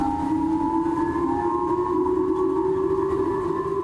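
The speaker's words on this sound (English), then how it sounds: "An air raid siren in northern Japan's Hokkaido island," An air raid siren wails on Hokkaido in northern Japan, a steady sustained tone rising slightly in pitch, loud and continuous with no voices over it.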